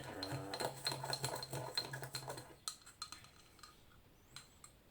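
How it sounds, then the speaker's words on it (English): A spoon stirs a homemade body scrub made from leftover shampoo in a bowl, giving quick scraping clinks against the bowl over a low steady hum, busy at first and then thinning to a few scattered taps. "I'm gonna mix well together."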